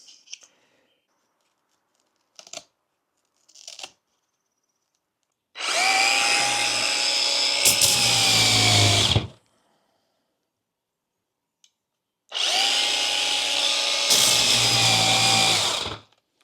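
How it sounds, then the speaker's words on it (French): A power sander works on a camper van surface in two long, steady bursts of loud, even whirring, separated by quiet stretches with a few faint clicks and knocks. "Maintenant, je vais poncer. J'ai cette ponceuse."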